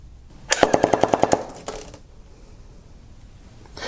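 A 1991 G.I. Joe Motorized Battle Wagon toy cannon rapid-firing, a fast burst of about ten sharp, loud plastic clacks in even rhythm, followed by a brief whir and quieter mechanical noise.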